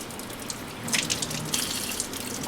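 Warm water runs slowly from a tap onto the air filter of a Makita gas saw, a close, steady hiss that swells as the flow splashes over the filter.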